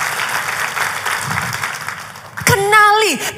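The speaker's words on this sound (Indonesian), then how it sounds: "kalau mau tepuk tangan, come on," A church congregation breaks into applause during a sermon, a broad wash of clapping that runs for a couple of seconds before a preacher's amplified voice cuts in over it.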